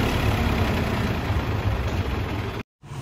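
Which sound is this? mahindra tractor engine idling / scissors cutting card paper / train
mahindra tractor engine idling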